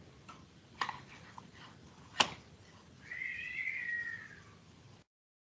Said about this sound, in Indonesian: ini ada kucing pagi-pagi udah bertengkar